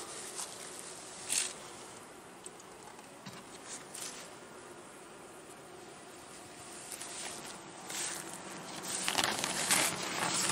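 Honeybees from a Buckfast queen's colony buzzing softly at an open hive, a faint steady hum with occasional louder passes and light rustling.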